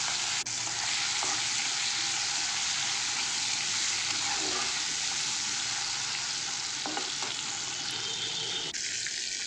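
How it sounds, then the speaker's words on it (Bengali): Prawns fry in hot kachchi ghani mustard oil with a constant, close, crackling sizzle. A few faint scrapes from stirring sound over it. "তেল গরম হয়ে গেছে বন্ধুরা, চিংড়ি মাছগুলোকে ভাজা করে নেব।"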